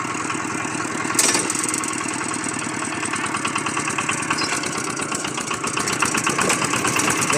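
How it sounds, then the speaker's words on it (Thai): A new farm tractor engine chugs steadily at idle nearby, its rhythmic throb loud and continuous, with a brief clank early on. "ลองรถไถใหม่พี่น้องในบ้าน"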